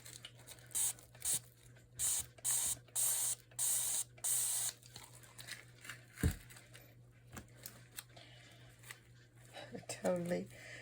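A spray bottle mists over resin in a mold with about eight quick, even hissing pumps in a row, followed by quieter handling rustles, a thump, and a short voice near the end.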